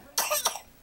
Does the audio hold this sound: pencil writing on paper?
no